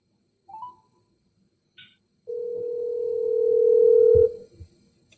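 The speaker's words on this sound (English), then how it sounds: "I hope you're all hearing Lisa's ring" A telephone call comes in during an online meeting. Brief electronic tones are followed by a sustained ringing tone lasting about two seconds, clear and close, with a faint clunk as it ends.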